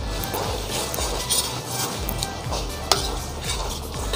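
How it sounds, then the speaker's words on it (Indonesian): Beef sautéing in a pan with opor spice paste, with a steady low sizzle and repeated scraping, stirring strokes and light clinks of a utensil on the pan, plus one sharp knock near the end. "semasa kita menumis bahan-bahan ni"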